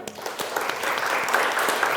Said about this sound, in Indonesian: Oke, terima kasih, tepuk tangan semuanya.